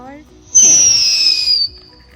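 A Diwali firecracker shoots off with a bright rising whistle that holds for about a second, loud and close, with faint voices around it.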